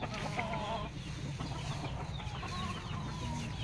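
Chickens cluck in a backyard in Davao, several birds making short overlapping clucks and calls over a steady low rumble of background noise, close by and continuous.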